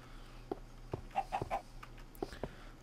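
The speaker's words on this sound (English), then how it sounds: "And there's the chicken." A chicken in the game Minecraft clucks several times in short, soft bursts, spaced irregularly over a quiet background, with no talking.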